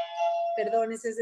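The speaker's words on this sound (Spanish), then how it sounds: "el timbre de mi casa" A home doorbell chimes at close range with a sustained tone, then a voice speaks briefly over the fading ring.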